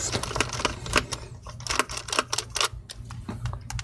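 A small screwdriver removes the screws holding down the fan inside an Asus G614J laptop, giving a close, quiet series of rapid clicks and scrapes with a rattling rhythm.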